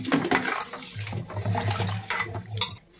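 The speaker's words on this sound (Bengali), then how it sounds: "এবার রাইসটা চলো ধুয়ে নিই" Rice is washed with water in a pot or bowl, with sloshing, swishing water and light grainy clinks in irregular bursts close by, fading near the end.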